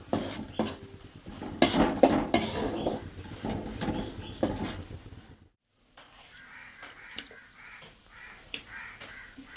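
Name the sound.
stirring Kerala prawn roast in a pan on high flame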